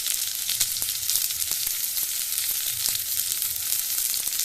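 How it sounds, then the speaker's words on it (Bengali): Chopped onion, garlic and green chili fry in hot oil after cumin seeds, giving a steady, loud, close sizzle with faint crackles throughout and no voices. "পেঁয়াজ কুচি রসুন কুচি লঙ্কা কুচি সব দিয়ে দিলাম"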